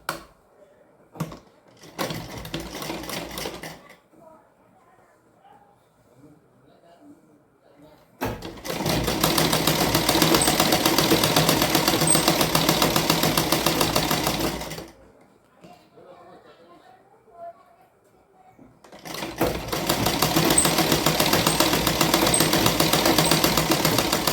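Sewing machine stitching fabric layers backed with a buckram sheet, running in two long loud steady bursts separated by quieter pauses with faint handling noises and a few short clicks.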